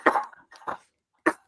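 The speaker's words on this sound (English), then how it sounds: "Excuse me, I'm coughing now." A person coughs three times, two close together and one after a short pause, each a sharp, close burst in an otherwise quiet outdoor setting.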